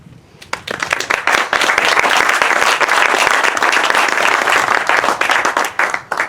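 Audience applause at a Measure Q campaign kickoff event in San Benito County, California: a dense, sustained burst of clapping from a crowd that swells quickly and holds steady for several seconds before thinning slightly at the end.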